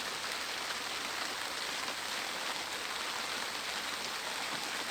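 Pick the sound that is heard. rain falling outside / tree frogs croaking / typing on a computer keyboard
rain falling outside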